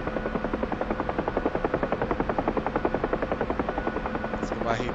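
A helicopter in the DCS flight simulator descends to land, its rotor chopping in a steady, loud, fast rhythm throughout, with a brief higher whine near the end.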